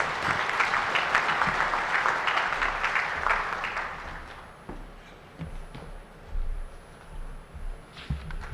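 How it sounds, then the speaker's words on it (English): Audience applause at a regional heads-of-state summit: a dense, steady clapping crowd for about four seconds, then thinning to scattered claps and faint room noise, with no talking. "Another round of applause, ladies and gentlemen."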